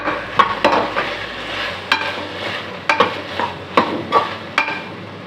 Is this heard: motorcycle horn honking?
no